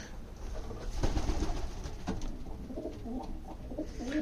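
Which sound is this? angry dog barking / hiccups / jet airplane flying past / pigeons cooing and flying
pigeons cooing and flying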